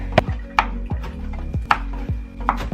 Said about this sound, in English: we'll cut up some cilantro and the serrano pepper and then the avocado